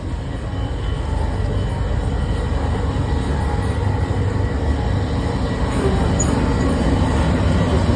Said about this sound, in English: The train was clocking pretty good overnight. It was really moving fast.